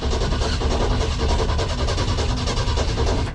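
An old farm truck engine being cranked over, a loud, dense, continuous mechanical churning rumble held steadily at close range for several seconds.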